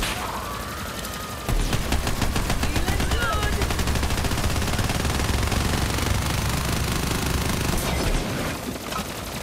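Sustained, dense automatic gunfire in the Borderlands 3 video game, a continuous rattling stream of rapid shots that runs for most of the stretch before cutting off near the end.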